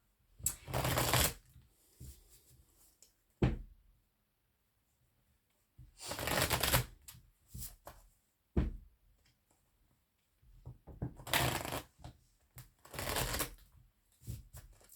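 Oracle cards being shuffled by hand in several separate bursts of crisp riffling, each lasting about a second, close and fairly loud with quiet gaps between them and no talk.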